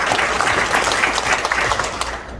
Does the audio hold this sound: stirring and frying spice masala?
no